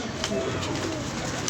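Pigeons coo in soft, low murmuring calls over a constant outdoor background noise, close and fairly faint, with a voice briefly present.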